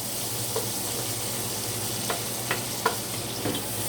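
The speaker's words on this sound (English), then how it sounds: "And stir those up with the black pepper on them." Food being stirred with a wooden spoon in a pot, with soft scrapes and knocks over a constant broad sizzle or hiss, close and even in level.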